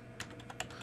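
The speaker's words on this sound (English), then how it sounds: "we're going to type in HTTP," A few light keystrokes tap on a computer keyboard as a web address is entered, faint and close, spaced clicks in under a second with no voices.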